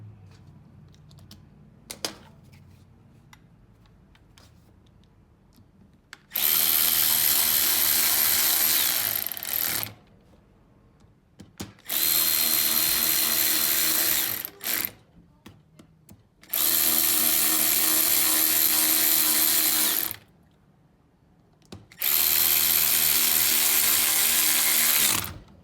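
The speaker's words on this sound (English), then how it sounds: "Gotta get the nose screws back on." A power driver runs the nose screws back into a Kobalt tool in four long, loud whirring bursts separated by short pauses, with faint clicks and handling noises between them.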